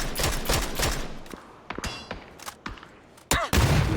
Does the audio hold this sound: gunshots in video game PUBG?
yes